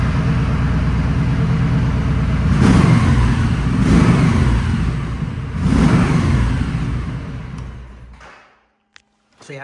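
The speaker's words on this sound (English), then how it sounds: "that's literally how the stock exhaust sounds" Kawasaki Vaquero 1700 motorcycle on its stock exhaust, a deep idling rumble close by that swells in three blips of revving before dropping off near the end.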